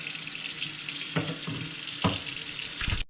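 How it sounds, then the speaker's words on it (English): Tap water runs steadily into an ice cube tray at a kitchen sink, a continuous hissing splash with a few brief knocks of the tray, close and alone with no talking. "I'm not gonna not refill the ice cube tray"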